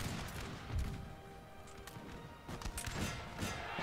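Musket volleys in a Napoleon Total War battle against Russian infantry, a dense, continuous crackle of many shots with a few heavier bursts standing out near the start and toward the end.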